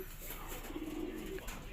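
Taiwan racing pigeon cooing in a loft, one soft, low, drawn-out coo lasting under a second, faint and close, set against quiet background noise.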